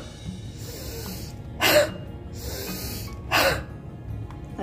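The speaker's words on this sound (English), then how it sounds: "Take deep inspiration," Two deep inhalations for a post-COVID breathing exercise, each a loud, breathy rush of air lasting about half a second, separated by quieter airy breaths and pauses.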